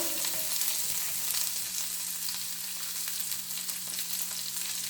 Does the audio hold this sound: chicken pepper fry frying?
yes